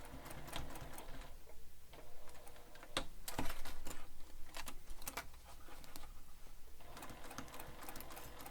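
A sewing machine stitches a bag in quick, rattling runs broken by brief pauses and sharp clicks, close and moderately quiet, with stop-and-start rhythm as the fabric is guided.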